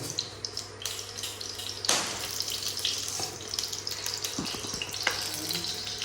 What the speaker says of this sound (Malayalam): പാത്രത്തിൽ ഇരുന്ന് വെള്ളം പൊട്ടുമല്ലേ